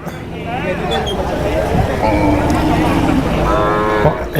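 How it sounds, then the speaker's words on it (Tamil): Bargur hill cattle calves moo repeatedly amid a busy temple festival crowd, several drawn-out calls rising over a constant hubbub of voices and chatter. "பர்கூர் மலை மாடுகளோட கண்ணுங்க"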